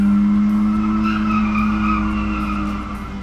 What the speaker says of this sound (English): Yeah, race cars outside my house.